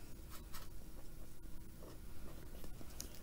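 Pen or pencil writing a vocabulary word during a chemistry lesson on metals, heard as soft, steady scratching strokes at close range with no talk.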